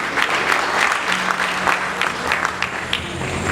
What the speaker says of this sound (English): give me a clap now